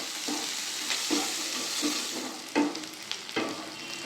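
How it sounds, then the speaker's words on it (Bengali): Chopped onions sizzle and fry steadily in hot oil in a pan, with several louder stirring scrapes breaking through the constant hiss, close by with no talking. "ভালো করে পেঁয়াজটা ভেজে নেব।"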